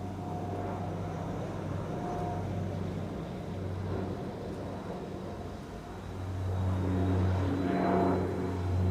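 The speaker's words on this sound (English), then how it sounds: "Dash 8 100 Coast Guard coming this way." A De Havilland Dash 8-100 Coast Guard turboprop takes off at Amsterdam Schiphol Airport, a steady loud propeller drone and engine hum that swells toward the end as the aircraft passes close.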